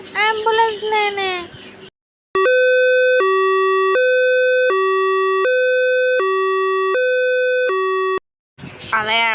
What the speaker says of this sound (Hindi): अरे एम्बुलेंस चली गई